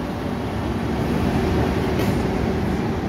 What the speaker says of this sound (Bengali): করমণ্ডল এক্সপ্রেস।